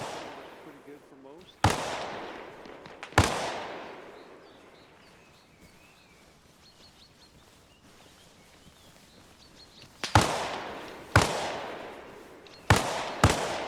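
Gunfire rings out in the video game Arma Reforger during a combat operation: single sharp cracks with echoing tails, two early on, then a tight cluster near the end, with a long quiet stretch between.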